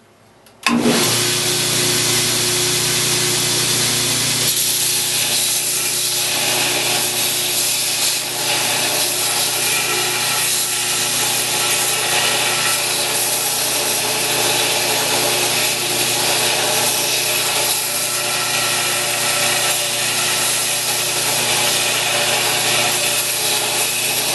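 A belt grinder running a 60 grit Norton Blaze belt grinds a knife blade's profile, a loud, steady, continuous abrasive roar with a constant motor whine that holds unbroken for the whole stretch.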